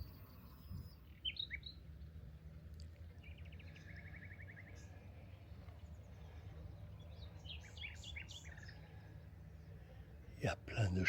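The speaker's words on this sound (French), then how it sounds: "Il y a plein de chants d'oiseaux." Birds chirp and tweet faintly in short, scattered phrases beside the Petit Rhône in the Camargue, coming from some distance over a low, steady ambient rumble.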